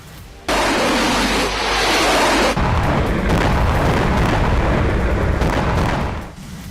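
Heavy bombardment from air strikes and a ground operation, loud continuous booming blasts and rumbling that sound like artillery and explosions, with a sharp cut partway into a denser roar of detonations.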